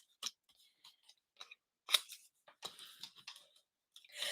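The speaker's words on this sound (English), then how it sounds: "We're going to fussy cut those out." Scissors snip quietly at small die-cut paper pieces in a series of light, irregular clicks and short cuts, close and faint, with no talking.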